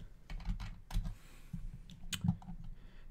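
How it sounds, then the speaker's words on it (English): Fingers type a player name on a computer keyboard in a Madden 17 Ultimate Team menu, producing soft, irregular key clicks with a few sharper taps, close and fairly quiet with no talking. "So if I type in Robert Quinn"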